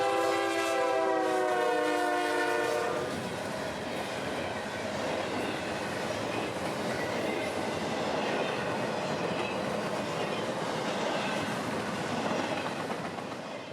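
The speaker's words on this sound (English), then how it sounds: "44 would show his face, screaming north with Tropicana juice and intermodal for Jacksonville, led solo by one of CSX's rebuilt CM44s" CSX freight train with Tropicana juice cars and intermodal, led solo by a rebuilt CM44 locomotive, passing close in Florida: a loud multi-tone horn blast opens, then a steady heavy rumble and clatter of cars rolling by.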